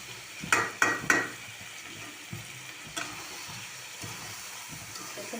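Potatoes and peas frying in a pan with ginger, garlic and milk, a steady sizzle running throughout with a few sharp scraping stirs near the start and occasional utensil clinks.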